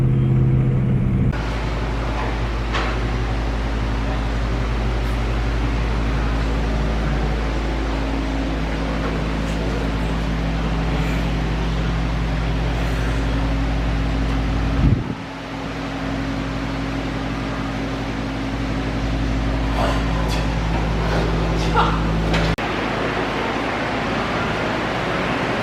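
A 2000 Trans Am strapped to a dyno runs with a constant droning engine rumble, loud and steady for about 25 seconds, with a brief dip and shift in tone midway.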